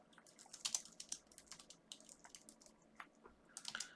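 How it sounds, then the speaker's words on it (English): Quiet typing on a computer keyboard, a faint, irregular patter of light key clicks in close, uneven bursts with no talk. "start typing"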